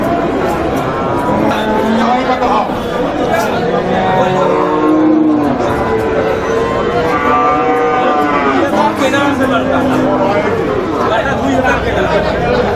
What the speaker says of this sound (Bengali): এটা একটা দুধের গাভি এবং এটার বাছুর হলো